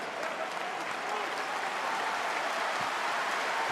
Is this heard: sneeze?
no